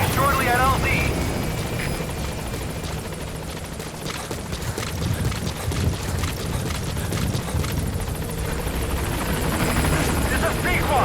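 In the Metal Gear Solid V game, the Pequod helicopter approaches a landing zone with a loud, continuous rotor roar and low throbbing rumble, radio-style voices speaking over it.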